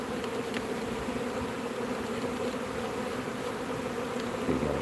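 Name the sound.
swarm of bees buzzing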